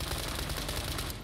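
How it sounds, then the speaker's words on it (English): Dense, continuous automatic gunfire in the World War 3 shooter game, loud and close, rattling steadily for over a second before tapering slightly at the end, with no talk. "Sometimes the gunshots are so loud in this game"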